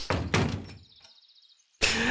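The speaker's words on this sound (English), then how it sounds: "She slammed the door loudly." A door in the game Everlasting Summer slams shut with two heavy, close thuds in quick succession. A thin ringing tone and a short quiet gap follow, then a burst of broad noise.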